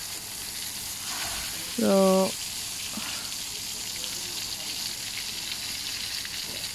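Eggplant slices fry in hot oil on a tawa with a steady, moderate sizzle throughout, interrupted midway by a brief spoken word.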